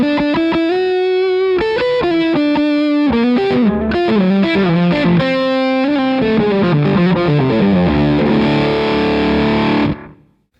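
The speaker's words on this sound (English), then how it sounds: "And I just switch over to the distortion side" Electric guitar driven through a Jackson Audio Modular Fuzz deluxe pedal on its distortion setting, strummed chords and riffs ringing loud and sustained for about ten seconds before cutting off.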